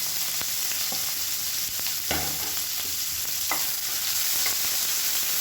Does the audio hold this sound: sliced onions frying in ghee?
yes